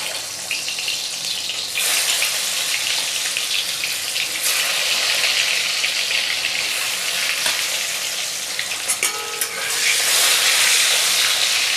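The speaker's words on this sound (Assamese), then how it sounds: "এয়া প্ৰথমতে মই আলুখিনি ফ্ৰাই কৰিম" Potatoes frying in mustard oil in an iron wok, a dense continuous close sizzle that swells in waves as the pieces are tossed, with a brief clatter near the end and no voices.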